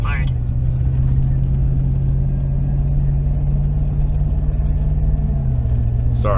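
A car drives along at steady speed, giving a constant low engine hum and road rumble throughout, fairly loud and close from inside the cabin.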